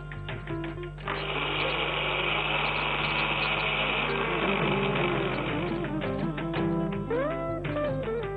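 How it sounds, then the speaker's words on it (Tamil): A mixer grinder runs steadily, grinding coconut, urad dal, chili and fenugreek in a loud, continuous whirring burst lasting several seconds, with background music underneath. "இப்போ மிக்சியில நான் இப்போ அரைக்க போறேன்"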